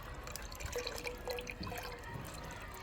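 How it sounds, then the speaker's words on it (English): Coconut milk poured into a pot at an outdoor backyard cooking setup, giving a soft, continuous liquid trickle and splash, close and moderately quiet, with faint clinks and no speech. "So getting in the coconut milk"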